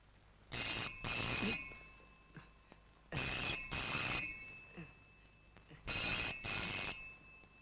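An old-style telephone bell rings in three loud double bursts, each pair of trills separated by a pause, clear and close with no talking over it.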